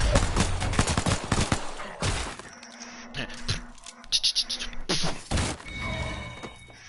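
Heavy bursts of automatic gunfire in Apex Legends, loud and close, come in rapid clusters separated by brief pauses, with scattered impact cracks and game effects between the volleys.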